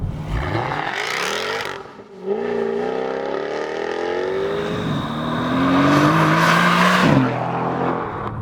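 Sports car, a Jaguar F-Type R or Mercedes-AMG GT S, accelerating hard through the gears, engine note climbing steeply in repeated surges with brief drops at each shift, loud and close, alone without talk.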